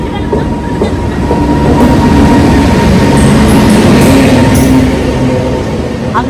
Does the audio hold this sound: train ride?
yes